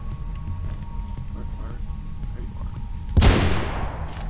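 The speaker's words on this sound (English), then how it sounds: "Oh, jeez, that's an anti-tank rifle." An anti-tank rifle fires once in Mirror's Edge: a single loud, sharp blast near the end that trails off quickly, over a steady bed of low rumbling game ambience.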